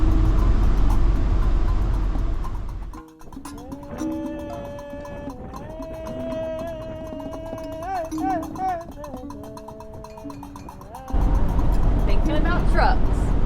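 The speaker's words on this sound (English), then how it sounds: "Yep. Surrounded by trucks." Trucks on an American road create a heavy, steady roar that fills the opening seconds, drops away while a voice and tonal sounds take over, then returns loud near the end.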